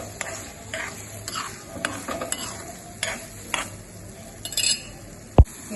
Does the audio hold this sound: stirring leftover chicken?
yes